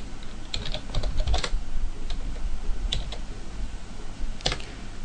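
Typing on a computer keyboard while entering records into fee management software, with small clusters of sharp key clicks spread over a low room hum, fairly close and moderately quiet, with no speech.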